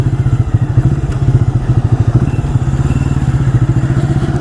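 A 1985 Yamaha Virago motorcycle engine runs loud and close, a steady rapid low-pitched pulsing throb with no voices.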